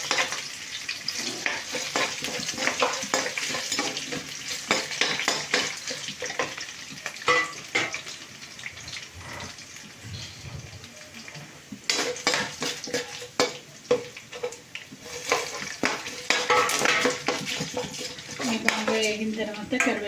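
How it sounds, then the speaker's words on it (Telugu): Garlic and dried red chillies fry in oil while a metal spoon stirs and clatters against the pan, giving repeated scraping knocks over a continuous sizzle. "ఇవన్నీ వేగిన తర్వాత వెల్లుల్లిపాయలు, ఎండుమిర్చి బాగా వేసుకుని ఇలా కలుపుకోవాలి."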